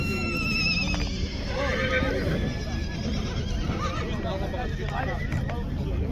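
Horses at a livestock market in the Komsomol district of Kyzylorda neigh and whinny repeatedly amid a loud, busy crowd, with hooves clip-clopping and people talking throughout.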